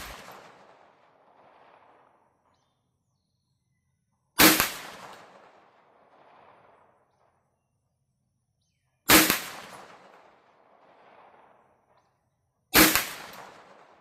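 Bear Creek Arsenal BC-9 bufferless AR9 9mm pistol with a red dot, firing Winchester white box ammunition at 40 yards: four sharp, loud cracks at uneven intervals, each trailing off in a short ringing echo, with quiet between shots.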